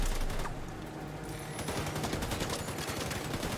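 Sustained automatic gunfire rattles in the shooter game Tom Clancy's The Division 2, a dense stream of rapid shots at moderate level with a brief lull early on before the firing thickens again.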